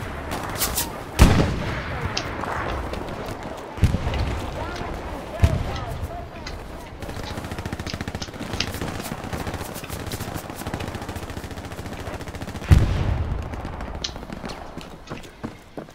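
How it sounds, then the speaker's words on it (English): Gunfire and artillery rumble through a World War II battle in Hell Let Loose. Loud booming impacts land at intervals over steady distant rifle and machine-gun fire, and a voice talks underneath. "Artillery coming in real close to you."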